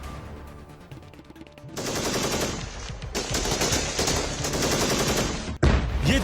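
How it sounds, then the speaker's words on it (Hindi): Rapid machine-gun bursts and heavy blasts from an army operation against militants in Kashmir, dense and loud, rattling almost continuously with a sharp, sudden crack near the end. "ये धमाके की आवाज"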